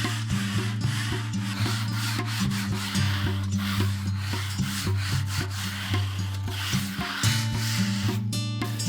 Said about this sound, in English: use a broad scraping knife to remove any high spots, ridges, or sand grains that may exist